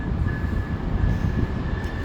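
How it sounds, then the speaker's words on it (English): An Amtrak intercity passenger train rolls past at New Rochelle, a loud, close, continuous rumble of wheels and railcars with a faint steady high whine over the roar, no voices. "This is an Amtrak train, not a Metro North. This is intercity rail."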